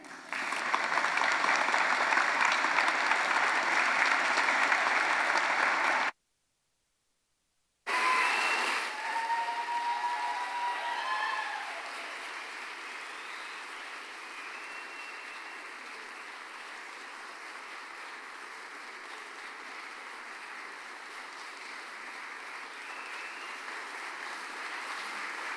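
A bookstore audience applauds to welcome actress Kate Mulgrew, with steady, full clapping for several seconds that then tapers into quieter room noise and faint murmurs.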